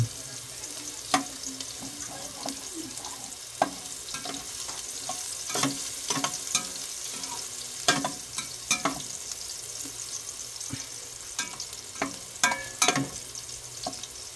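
Garlic frying in a pan for callos, a continuous oily sizzle with repeated sharp taps and scrapes of a utensil stirring against the pan, close and clear.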